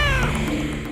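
A cat meows in a drawn-out, wavering cry with a rough, caterwauling edge. It is close and loud, and the call lasts almost a second, in a comedy scene.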